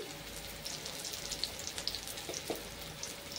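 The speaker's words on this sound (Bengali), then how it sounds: "আলুর সাথে পেঁয়াজটাকে খুব ভালো করে ভেজে নিতে হবে।" Potato and onion fry in a pan with a soft, steady crackling sizzle and scattered pops, quiet and close, with no talking.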